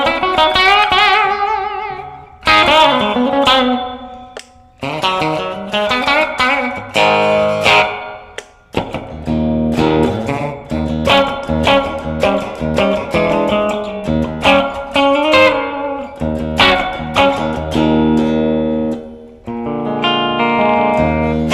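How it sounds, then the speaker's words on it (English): Electric guitar played through a Behringer V-Amp II modeling amp with reverb turned up, a loud run of strummed chords and single-note phrases with short pauses, each ringing out into a reverb tail, no talking. "Want more reverb? Turn it up."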